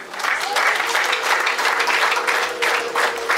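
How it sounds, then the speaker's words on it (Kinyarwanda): Applause at a Rwandan wedding dowry ceremony: a crowd claps steadily in a dense, sustained burst with some voices mixed in. "mubampera amashyi rero n'imfura"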